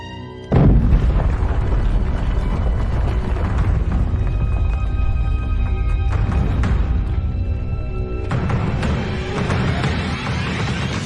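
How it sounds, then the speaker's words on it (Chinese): A sudden loud boom erupts as a research room explodes, followed by a long roaring rumble, with another surge of noise near the end. "公子商大小姐的研究房里发生了爆炸"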